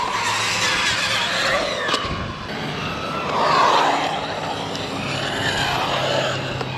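Arrma Typhon 223s RC car held at full throttle from a standing start, a steady high-pitched motor whine with tire scrabble that swells midway and stays loud and close throughout, with no talking.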